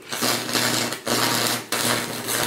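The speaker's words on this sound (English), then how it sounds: "we're just welding it back together" Welding rod arcing on a laptop being destroyed, a loud continuous crackling buzz with a steady hum beneath, broken by two brief drops where the arc cuts out and restarts.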